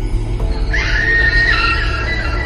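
A woman screams at a distance, a single high wavering cry lasting about a second over a loud, constant background rumble.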